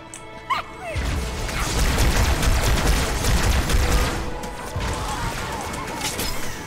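A grenade going off in Halo 2 amid other combat noise: after a short sharp burst, a loud crashing blast rolls out and sustains for several seconds along with heavy gunfire, then tapers into lingering battle noise.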